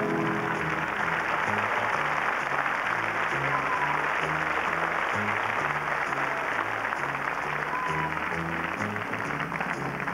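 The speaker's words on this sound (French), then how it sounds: "n'hésitez pas, toute la salle, à applaudir à chaque fois" A hall audience at the Miss France 1994 pageant applauds a contestant as she is called, a steady wash of clapping from a large crowd, distant and even for several seconds, with background music beneath.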